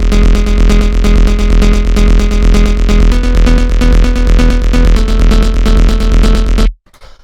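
Techno bass line in a Mau5trap style playing two-note chords, a loud, dense, pulsing loop that throbs steadily for several seconds before cutting off abruptly into near silence.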